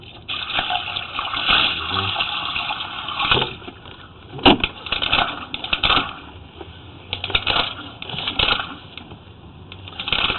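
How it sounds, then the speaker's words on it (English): Water sloshes and splashes through a 50-foot sewer pipe in uneven bursts, with one sharper splash midway amid a hollow, echoing background. "Here's that little gust of water that we dumped in there to kind of clean up the fog"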